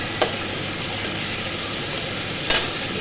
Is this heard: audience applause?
no